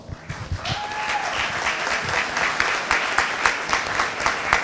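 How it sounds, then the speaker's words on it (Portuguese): An audience at a city council session in Tupã gives a sustained round of applause, clapping evenly and fairly loudly throughout. "Aquela linda salva de palmas."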